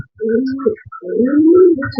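A female racing pigeon coos in a run of low, throaty, rolling calls, close and fairly loud with no talk over them.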